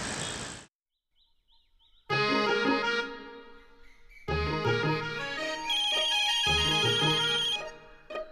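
A mobile phone ringtone plays in a Marathi TV serial scene, a short electronic chirp first, then a pause and a louder melodic ringtone that keeps ringing on and off, fairly close.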